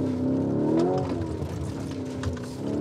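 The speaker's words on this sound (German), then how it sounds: "man hat einen 650 PS V8 Biturbo-Motor, der wirklich nach vorne will" A Lamborghini Urus with a 650 hp twin-turbo V8 drives sideways over loose gravel, its engine droning loudly and rising in pitch before settling into a steady growl, close by with no talk.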